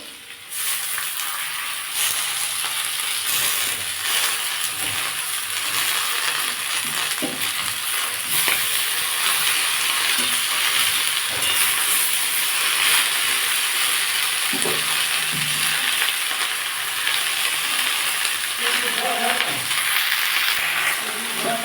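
Greens and eggplant stir-fry in a pan with potatoes already cooked down, a loud, continuous sizzling hiss throughout, broken by occasional soft scrapes and knocks of stirring.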